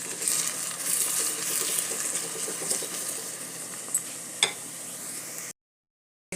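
Sliced onion and ginger sauté in a hot pan, giving a steady bright sizzle with occasional stirring scrapes and clinks before the sound cuts off abruptly.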